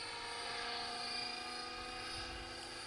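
A helicopter flying a large figure-eight pattern, its rotor and engine producing a steady, loud, continuous drone with a rhythmic blade thump throughout, with no voices.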